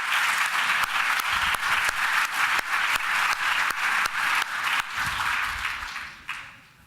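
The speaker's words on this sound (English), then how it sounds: "So you can applaud him." An audience at a CEMS annual meeting plenary session in Barcelona claps with a regular pulsing beat that holds steady, then softens and fades away at the end; no one speaks.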